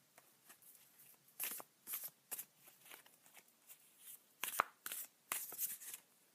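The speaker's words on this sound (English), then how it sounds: "I'm going to just give them a wee shuffle." Healer of Hearts oracle cards are shuffled by hand in a quiet room, a run of soft, quick riffling bursts with short gaps between them, close and gentle.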